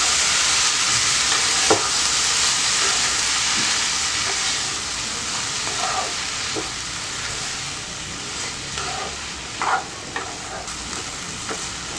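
Mint and ginger sauté in oil with a loud, continuous hiss and sizzle up close, broken by a few sharp scrapes and clinks of a spoon against the pan, with no voices.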